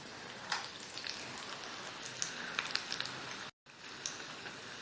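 Vegetable samosas frying in oil on a slow flame, a soft steady sizzle with scattered crackling pops, moderately quiet and close, briefly cut to silence partway through.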